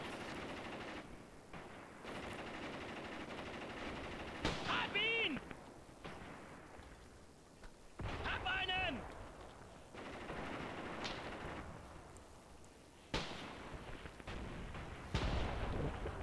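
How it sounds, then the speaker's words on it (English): Cannon fire booms in the WW2 video game Graviteam Tactics, set on the snowy Eastern Front in 1943: several heavy shots with whistling trails spaced seconds apart over a constant battle rumble, while someone talks throughout. "Hear some kind of cannon fire. Could be the enemy tanks."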